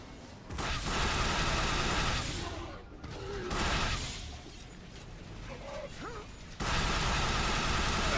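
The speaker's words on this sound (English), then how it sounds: "Gonna shoot this guy." Dense gunfire from the video game The Bureau: XCOM Declassified rattles in loud, sustained bursts, breaking off briefly and then resuming at full force.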